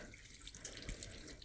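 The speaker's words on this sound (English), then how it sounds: "it is just a water fountain. You could fill a bowl or something. Yeah, and there's also water coming out on the bottom" Water runs steadily from an old outdoor drinking fountain in Lassen National Forest near Susanville, California, a faint continuous trickle and splash with no voices over it.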